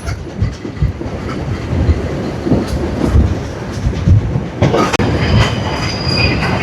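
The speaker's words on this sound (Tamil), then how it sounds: "இதுலேயும் வந்து புகையிரதம் நிற்கல. தொடர்ச்சியாக பயணித்து போய்கொண்டிருக்கு." A passenger train on the Sri Lankan line near Colombo's Kollupitiya station rolls along without stopping, producing a loud, continuous rumble with rattling clicks and occasional squeals from the wheels, heard from on board with no talking.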